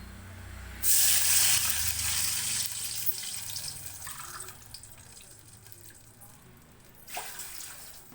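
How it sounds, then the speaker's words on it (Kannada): Water gushes loudly into a cooking pot for a couple of seconds, then settles into a softer running trickle, with a brief splash near the end. "ನಾನಿಲ್ಲಿ ನೀರು ಹಾಕ್ತಾಯಿದ್ದೀನಿ"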